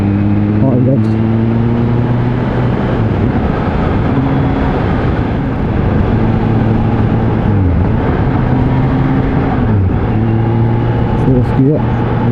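A 2020 Kawasaki Z H2 hyper-naked motorcycle engine held at high revs while riding, a loud steady drone with pitch swells and drops through gear changes, recorded close on the bike.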